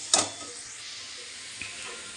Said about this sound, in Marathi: तेलामध्ये थोडेसे जिरे, तेजपत्ता आणि कांदा घातला आहे। तर तो कांदा परतून घेते मी